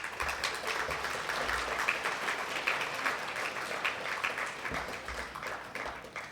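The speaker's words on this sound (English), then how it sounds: "please join me with a round of applause" A luncheon crowd at an international conference award event applauds, a dense and sustained round of clapping heard from a little distance, fairly soft and even, with no speech.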